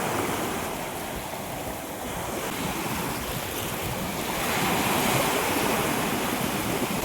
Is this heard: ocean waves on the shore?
yes